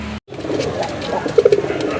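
Rasgolla pigeons cooing close by at a pigeon sale, a few soft low throaty coos after a brief pause, with faint background noise and no talk.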